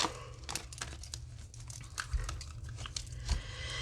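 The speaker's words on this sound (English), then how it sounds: "Got a few more cards to get out here." Tarot cards being drawn and handled, with soft close shuffling, crinkling and sharp flicks and taps in an irregular rhythm, quiet and with no talking.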